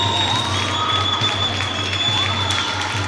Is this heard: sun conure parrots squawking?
no